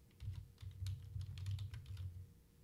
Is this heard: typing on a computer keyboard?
yes